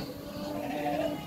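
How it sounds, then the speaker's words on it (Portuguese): Sheep and lambs on a farm lot in Dois Riachos, Alagoas, bleat in overlapping, sustained calls that hold steady at moderate loudness for over a second, with no talk. "9 borregos e 6 ovelhas."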